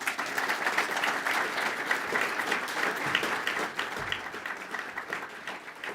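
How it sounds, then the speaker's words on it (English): Sustained audience applause at a high school debate event, dense, even clapping from a crowd filling the whole stretch, tapering slightly toward the end. "I think they deserve a round of applause."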